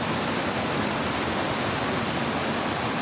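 Water rushes steadily at Manimuthar dam in Tamil Nadu, a loud continuous broadband roar of flow with no voices or pauses.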